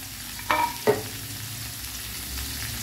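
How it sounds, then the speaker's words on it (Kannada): Tomatoes frying in a pan give a steady low sizzle, broken by two short scraping stirs early on, heard close with no voices over it. "ಇದನ್ನೀಗ ಫ್ರೈ ಮಾಡುವ, ಚೆಂದ ಮಾಡಿ ಬೇಯಿಸಿ"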